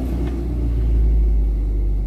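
A Toyota Avanza engine idles smoothly just after starting, a steady low rumble heard from inside the cabin with no other sounds.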